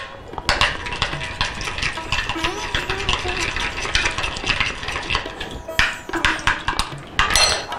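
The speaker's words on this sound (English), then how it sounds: "So mix these guys up here. Trying to break up the yogurt." Yogurt and an egg being stirred and mixed in a bowl, busy close scraping and clinking of a utensil against the bowl, continuous with a few sharper knocks.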